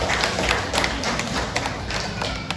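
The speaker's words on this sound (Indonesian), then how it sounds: "Tepuk tangan dulu." Audience applause at a farewell and welcome ceremony for local officials, a dense steady wash of clapping from a crowd throughout, fairly loud and continuous.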